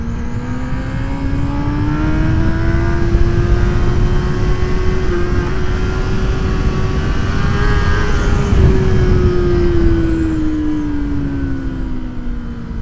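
A Kawasaki Ninja ZX10R motorcycle at high speed, its engine a loud, steady drone with a slowly rising and falling pitch, wrapped in heavy wind rush and running alone without talk.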